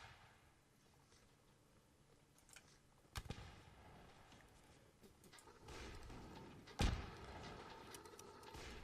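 Artillery fire in a Mount and Blade North & South mod line battle, faint scattered booms and sharp cracks over a low battlefield din, with a couple of louder nearby reports standing out.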